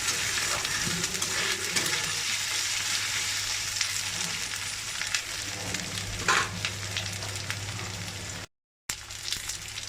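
Soaked soybeans fry in a pan for khichuri with a continuous close sizzle, accompanied by occasional stirring scrapes and a brief dropout near the end.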